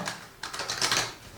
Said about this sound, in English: I'm just going to give these a good shuffle.